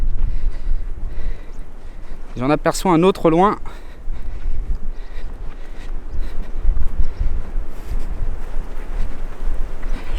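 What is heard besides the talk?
strong wind on the Biville dunes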